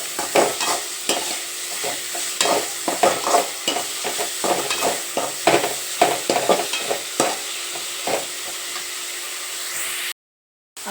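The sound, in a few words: stirring and frying chicken gravy masala until brown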